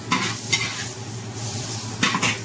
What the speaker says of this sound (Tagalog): Guys, lagay na natin yung tanlad natin.